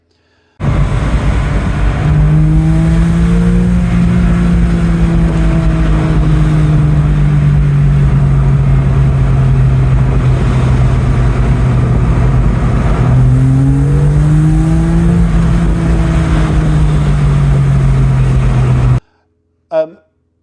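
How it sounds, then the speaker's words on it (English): A Porsche engine revs high and loud for a long stretch, pitch rising and falling as the throttle is worked, then cuts off abruptly. "car revving up in that higher rev range"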